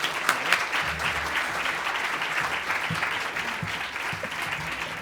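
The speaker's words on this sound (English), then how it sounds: "Can we get another round of applause for Sebastian Williams and Isaiah Paik?" Audience applause at a high school debate championship after a debate speech, a continuous wash of many hands clapping at moderate volume with no voices over it.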